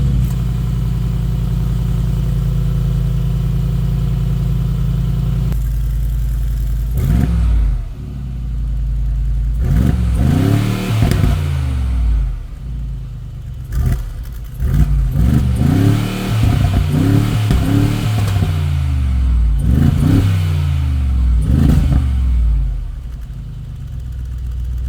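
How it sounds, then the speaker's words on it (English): A Mercedes-AMG G63 SUV idles low, then revs hard in repeated throaty bursts through its open active exhaust, each rising and falling, with a deep rumbling close by and loud throughout. "that active exhaust opens up and it just gets really mean and throaty."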